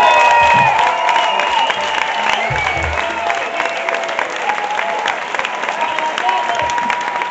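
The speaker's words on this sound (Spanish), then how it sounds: "¡Aplauso!" A Cuban live-music concert audience in Barcelona claps and cheers, a dense ongoing wash of applause with shouts and whistles scattered through it, the crowd loud and close.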